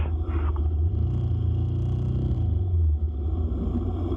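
Motorcycles cruise along a road, giving a continuous heavy low engine rumble mixed with wind buffeting, steady and close throughout with slight swells in pitch.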